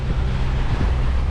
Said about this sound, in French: comme nous avons les vagues de face, c'est pire